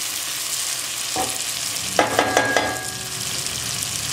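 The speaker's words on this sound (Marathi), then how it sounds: "मस्त परतवून घ्यायचंय" Dried fish with brinjal, ginger and garlic sizzles steadily in a pan, with a few quick clinks of a spatula stirring partway through; no one speaks.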